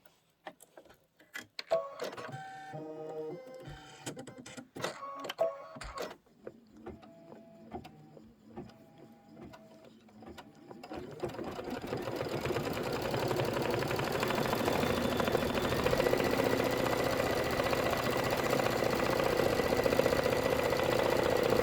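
A computerized embroidery sewing machine quilts a fabric popsicle block, first with sparse needle clicks and ticks, then a continuous rapid mechanical whirr of stitching that builds and holds steady, close and fairly quiet.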